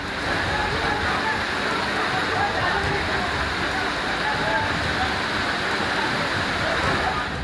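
Floodwater rushes through a street during heavy monsoon rain, sweeping along drums and motorbikes, making a loud, continuous, dense roar of flowing water and downpour that holds steady from start to finish.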